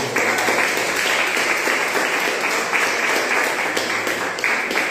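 A church congregation applauds at an evening sermon service, a dense, steady wash of clapping from many hands that fills the whole stretch at full volume without letting up.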